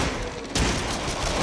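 A burst of heavy gunfire from powerful guns in the PlayStation VR shooter Until Dawn: Rush of Blood, a sudden loud blast at mid-clip followed by sustained booming rumble.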